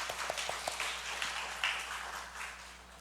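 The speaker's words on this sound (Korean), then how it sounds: "우리 축하의 박수 하겠습니다." A church congregation gives celebratory applause during a Sunday service, opening with a few distinct claps and swelling into soft, steady clapping that fades gradually.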